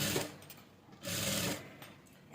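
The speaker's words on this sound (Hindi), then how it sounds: "आपको इलास्टिक को खींचते रहना है और सिलाई करते रहना है।" A sewing machine stitches 1.5 inch wide elastic onto a floral gown as the elastic is stretched, running in loud close bursts that pause and restart, with no talking.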